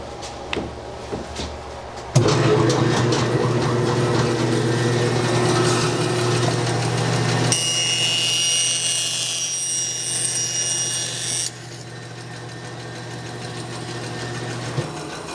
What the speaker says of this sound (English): Again, I prefer the bandsaw when I can use it.